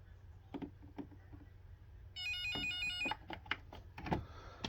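A Radio Shack weather radio alert tone, a steady high electronic beep lasting about a second amid handling clicks and knocks, heard faintly in a quiet room.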